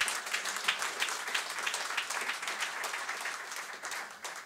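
A church congregation applauds and cheers for the Lord during a French-language online worship service, a steady wash of many hands clapping that fills the room evenly and fades slightly toward the end.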